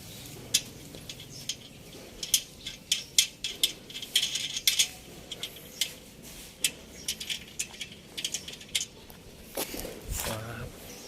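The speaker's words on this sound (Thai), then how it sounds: "เดี๋ยวเราเอาสะพานลงมาวางให้ดูครับ ก็ปลดง่ายๆครับ เป็นน็อตถูกระต่ายนะครับ" Wing nuts on a motorbike carrier rack at the back of a truck are unfastened to lower its ramp, a close series of sharp metallic clinks, rattles and knocks in irregular bursts, with someone speaking briefly.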